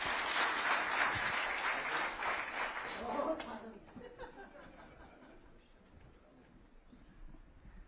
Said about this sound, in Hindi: अरे जबरदस्त तालियां बजाओ